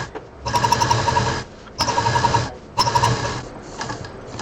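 A sewing machine stitches bag bottom pieces together in three loud, close bursts of rapid mechanical whirring and clatter, each about a second long, separated by brief pauses.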